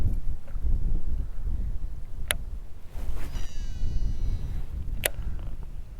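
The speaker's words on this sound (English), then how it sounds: "now it's windier right now" Steady wind roars and rumbles across the water during a fishing outing with a baitcasting reel, a continuous gusty blast that fills the whole stretch, with a couple of sharp brief clicks standing out.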